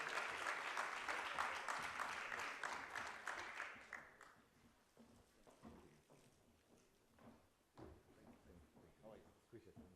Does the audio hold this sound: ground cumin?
no